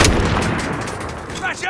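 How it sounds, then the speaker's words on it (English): Assault rifle fire in a first-person video game, a loud close burst of rapid shots lasting under two seconds, dense and punchy with no pauses. "Assault rifle here."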